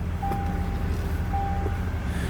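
Stock 1988 Ford Thunderbird LX coupe idling, a low, steady engine hum with faint tonal whines, heard at moderate distance without other sounds.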